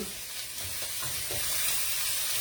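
Fire-roasted peppers sizzle and hiss in a pan while being stirred for a post-op egg bake, a constant loud frying crackle with soft scraping stir strokes.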